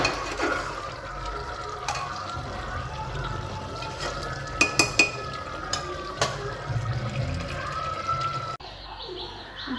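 Boiled beef for biryani is stirred in a pot to reduce the broth, giving scraping and clinking spoon strokes with a few sharp knocks over a simmering bubble, while birds coo and a voice talks faintly in the background.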